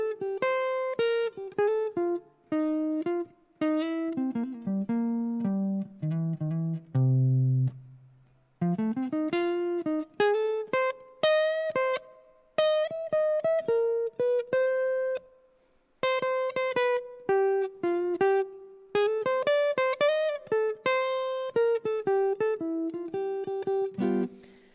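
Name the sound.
guitar solo using chord tones over blues changes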